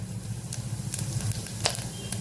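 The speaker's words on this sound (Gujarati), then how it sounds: "અહીંયા અડધી ચમચી જેટલું જીરું ઉમેરશું" Cumin seeds sizzling in hot ghee and oil in a pan, a dense, steady frying hiss with a few brief crackling pops, close and continuous, no voices.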